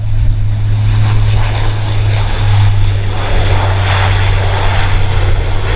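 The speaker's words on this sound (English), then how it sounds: "And a C-27, kind of a baby C-130 there with twin engines." A C-27 twin-engine military transport flies past at an airshow, its propeller engines giving a loud, steady droning hum with a strong low tone throughout, close and unbroken, with no talk over it.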